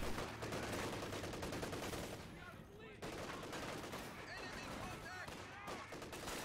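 Machine gun fire from a World War II strategy game, rapid bursts rattling off repeatedly in a tense battle mix, with a short lull partway through and other combat sounds and voices around it.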